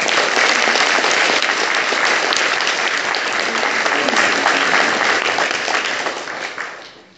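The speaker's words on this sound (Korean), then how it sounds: "우리 환영의 박수를 부탁드립니다" A congregation at Catholic Mass breaks into welcoming applause, a full, close wash of clapping that holds steady and then tapers away over the last second.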